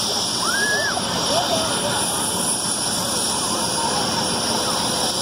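A medical helicopter arrives at a school vehicle day, its rotor and engine roar a steady loud wash throughout, with children's voices and chatter heard over it.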